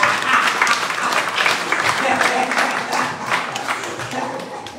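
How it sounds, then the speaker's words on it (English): An audience at a language documentary launch gives a round of applause, with dense, irregular clapping that is loud at first and then gradually thins and fades. "Let's give the video another round of applause."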